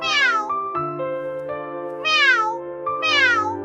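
A cat at dawn lets out three loud, drawn-out meows, close and clear, each rising and bending in pitch, with a lower steady tone running beneath and quiet gaps between calls.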